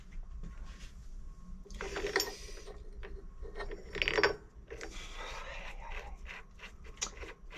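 A clamp is tightened onto a tipping trailer's new hinge, giving ratcheting mechanical clicks and metallic bursts over a low rumble, with the loudest grinding clusters about two and four seconds in.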